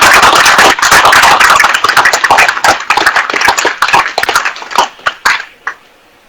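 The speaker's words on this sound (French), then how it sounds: "Il faut applaudir ce résultat-là." Energetic crowd applause at a political rally, loud dense clapping at first that thins into scattered individual claps and tapers off toward the end.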